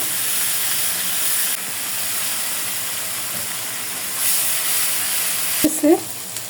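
Spice paste of garlic and ginger paste with salt frying in a pan, a steady soft sizzle and hiss throughout, with a few brief scraping stirs near the end.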